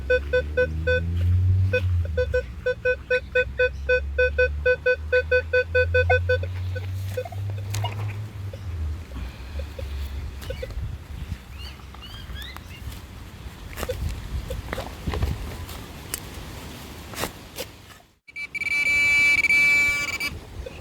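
A Minelab Equinox metal detector sounds repeated short, pulsing beeps during a treasure hunt, followed by scraping and rustling in the ground and then a final brief burst of tone, close and clear.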